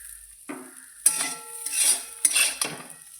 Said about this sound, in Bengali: এটা আমি এবার একটা বাটির মধ্যে তুলে নেবো